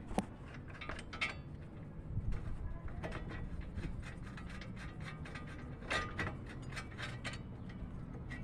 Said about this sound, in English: now we can go ahead and take up these bolts completely